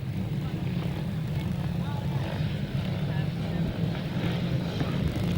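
Speedway motorcycle engines drone and rev together at the start of a 2002 British Masters qualifier, a steady low mechanical roar, with a voice speaking over it.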